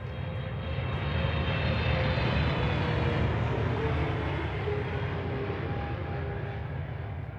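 A passenger airplane descends on final approach toward Honolulu Airport, its engines giving a steady, loud, broadband roar that swells slightly and then holds for several seconds, with no voices over it.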